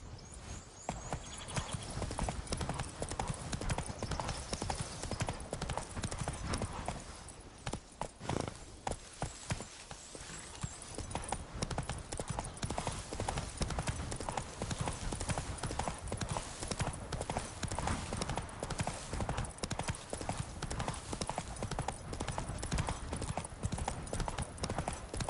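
Roach, a horse in The Witcher 3: Wild Hunt, trots with steady, rhythmic clip-clopping hooves, close and loud, continuing throughout with a brief lull partway through and no talk over it.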